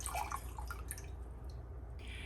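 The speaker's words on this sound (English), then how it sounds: "Next, we can juice the limes." Lime juice dripping as fresh limes are juiced by hand in a kitchen: a few close, wet drips and squishes clustered at the start, then quieter drips.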